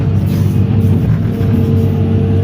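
A truck engine rumbles steadily at night at a waste collection job, a loud, close, continuous low idle drone with no talk.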